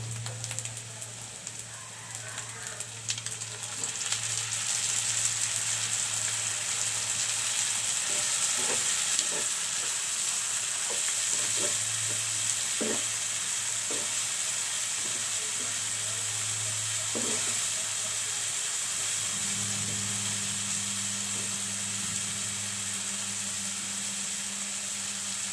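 Mixed spices sizzle and fry in a hot pan for a Bengali dish of pumpkin peel with beans and dried fish, a loud continuous hiss running throughout with faint clinks and a low hum beneath.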